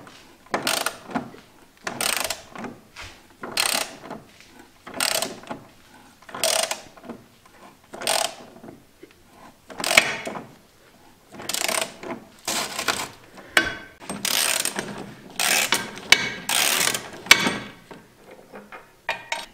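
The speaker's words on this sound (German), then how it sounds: "Jetzt müssen wir die 2 Bolzen abschrauben." A hand ratchet with an E18 Torx socket loosens bolts on the steering of an Opel Astra G/H: loud, close bursts of rapid clicking repeat in a steady rhythm with short pauses, and no one talks.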